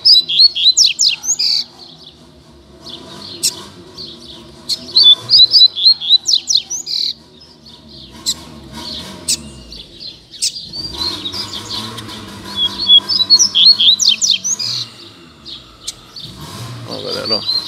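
Double-collared seedeaters sing in a song duel, rapid bright chirping phrases in repeated bursts trading back and forth, close and loud, with a few background noises between phrases.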